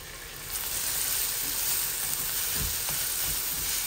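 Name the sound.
fangash fish cooking in oil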